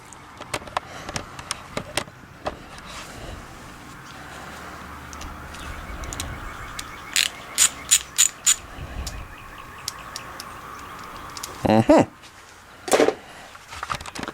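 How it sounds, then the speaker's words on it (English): A small ratchet and socket cranked on the spark plug coil of a Ford 4.6, 5.4 or 6.8 liter engine, giving short bursts of quick metallic clicks amid workshop clatter and faint background noise. "stick your little ratchet in there, your little socket, and just go crank, crank, crank a couple turns"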